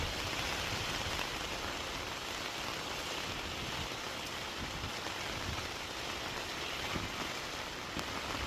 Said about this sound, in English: And then just chill out listening to this rain and let this one pass through.